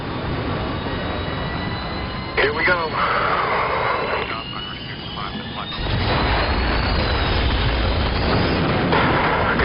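Jet takeoff and explosions from the Battlefield 3 jet mission on console: a loud, continuous roar of engines with booming blasts, a brief sharp impact near the start, and someone speaking over the game sound.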